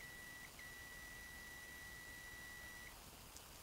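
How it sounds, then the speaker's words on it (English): Continuity buzzer of a Kaiweets HT118A true RMS multimeter giving one steady, thin electronic tone for about two and a half seconds, with small breaks in it, then stopping. "it's a small interruption there in the sound of the continuity buzzer"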